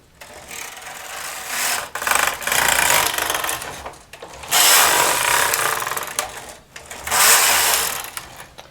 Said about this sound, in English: I've set my machine to a tight tension, and I'm going to knit 3 rows.